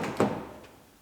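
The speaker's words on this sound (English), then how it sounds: "Slide it forward to lock it in." A Toyota RAV4 door handle slides forward and locks into place with a single short plastic thunk, followed by quiet room noise fading over the next second.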